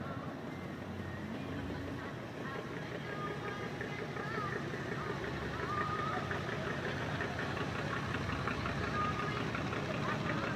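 A built-up Interceptor V8 car engine of about 450 horsepower, tuned mildly for cruising, idles steadily and loudly at a car show, with a constant low rumble and people talking over it throughout.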